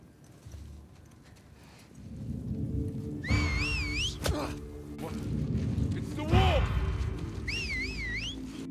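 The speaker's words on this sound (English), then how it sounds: "The next whistle is the enemy ambush whistle." The Seraphite enemy ambush whistle from a video game: a sharp rising-and-falling whistle sounds twice, separated by a pause, over a busy background of rumbling game noise.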